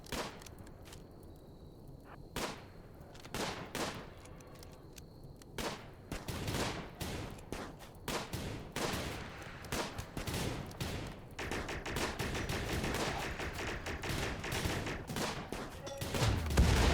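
Gunfire in the video game Rimworld during a grasslands battle, many sharp shots in irregular volleys that grow denser and louder over time, sometimes in rapid bursts.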